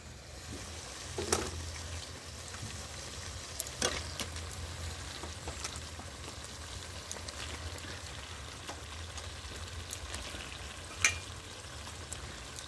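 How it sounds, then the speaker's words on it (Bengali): Chicken pieces sizzle as they fry in spice paste in a pan for a chicken kosha dish, a steady close crackle with occasional stirring knocks. "এই দেখো এবার আমি চিকেনগুলো দেবো।"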